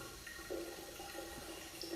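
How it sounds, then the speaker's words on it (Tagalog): Water runs steadily from an open tap at an abandoned Olympic-size pool in a forest, a continuous broadband rush that stays fairly constant, moderately close, with no one talking. "Pero naririnig ko na may gripong bukas."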